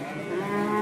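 At the Prambanan cattle market in Klaten, one cow gives a single short, low moo from a moderate distance, with faint market background noise behind it.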